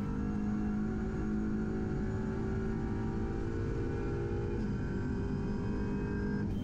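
An Audi RS3 LMS touring race car's engine howls at near full throttle climbing a hill at the Nürburgring Nordschleife, a loud steady onboard drone with rising pitch and a brief dip as the driver lifts slightly.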